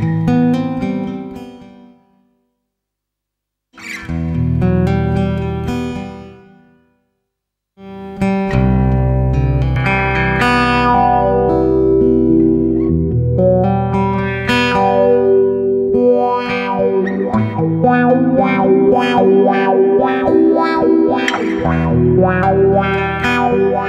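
Distorted electric guitar playing chords and sustained notes with a sweeping, vocal wah-like filter, loud and continuous after two short opening bursts.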